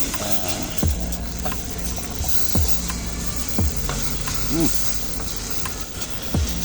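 Spice paste for genjer sambal sizzles and crackles in a hot pan, a steady frying hiss broken by a few scraping stirs, while someone talks over it.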